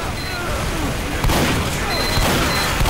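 Sentry turret firing in Team Fortress 2, rapid sustained gunfire in a dense noisy stream, loud and continuous with blasts and game effects mixed in.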